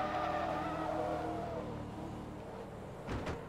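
Race car engines roar and then fade as cars pass a Porsche during a 450HP invitational race in Forza Motorsport 2, a steady engine drone with a brief tire squeal near the end.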